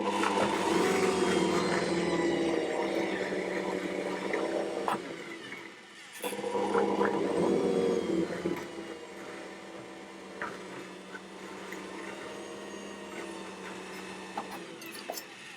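An Ankarsrum stand mixer stirs sugar and cardamom in its bowl, a steady mechanical whir and hum with a brief dip in the middle before running on evenly at moderate, close volume.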